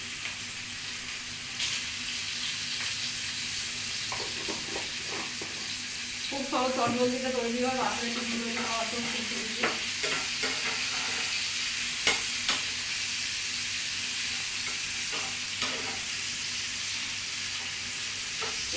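Vegetables for an oats curry fry in a pan with a steady close sizzle, punctuated by scraping stirs and clacks of the spatula, while someone talks over it.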